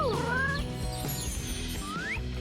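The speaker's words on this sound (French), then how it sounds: "Ce chat robot était parfait pour elle." A robot cat gives a few high, sliding meows over a busy backdrop of music, its calls rising and falling as short clear cries.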